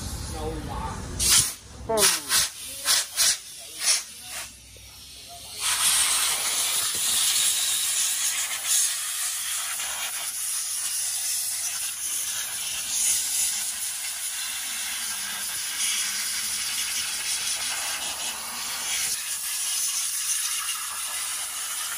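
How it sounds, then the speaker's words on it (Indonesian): Compressed air blasting dust off the jammed brakes of a Ford Fiesta, a long loud continuous hiss after a run of short sharp bursts, with a voice speaking briefly. "Nak tembak abuk, kita tengok abuk dia"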